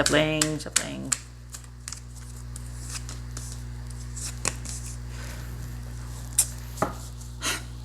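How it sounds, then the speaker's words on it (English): Soft, scattered clicks and riffling bursts of playing cards being shuffled, close by, with a low steady hum underneath and a few sharper snaps. "Oh, you can't see me shuffling here. I'm shuffling, I promise. Shuffling."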